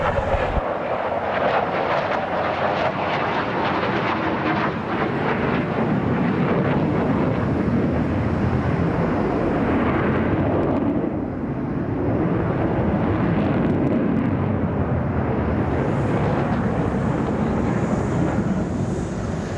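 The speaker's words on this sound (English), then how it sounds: "This F-16, the Block 60, is what some consider to be the ultimate variant of the world's most successful multi-role combat aircraft." An F-16 Block 60 fighter jet flies past with a loud, continuous roar that swells and shifts in tone over about twenty seconds, accompanied by steady wind noise and no voices.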